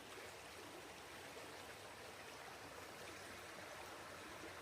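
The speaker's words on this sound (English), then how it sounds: "Get a better look at the river." A river flows past a historic trail crossing at Alexander's Ford, its steady, even rush of water continuing without a break, fairly faint and with no voices.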